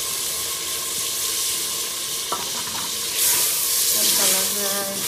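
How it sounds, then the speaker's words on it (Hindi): Peas dropped into hot oil for a tempering for a potato and pea curry in a rural Pakistani village kitchen, giving a steady close sizzle and bubbling that swells louder in the second half, with faint stirring clinks. "तड़का लग रहा है।"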